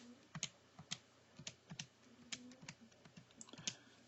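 Irregular, quiet clicks of fingers pressing keys on a calculator keypad, about a dozen separate taps spread unevenly, faint and close, with no talking.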